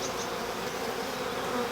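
Honeybees swarm around an open hive during a first hive inspection, a dense continuous buzzing that is close and loud throughout, with no talking.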